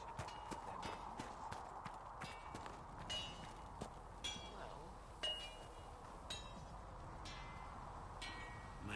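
Horse hooves clip-clop in a steady walking rhythm in the fantasy video game Dragon Age Inquisition, quiet and fairly close, with occasional light clinks of tack.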